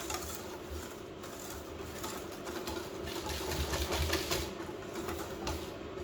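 Milk and cream whisked together in a bowl for a custard tart, a close, steady whirring and scraping churn with soft rhythmic clatter, no talk.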